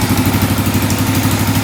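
Quad ATV engine running loud and close, with a rough, pulsing idle that rises into steady revving throughout.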